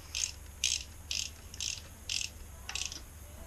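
Ratchet wrench clicking in six short bursts while bolts are tightened on a 2005 Kawasaki Ninja 250 engine during a rebuild, each burst a quick run of close, crisp clicks, with no voices.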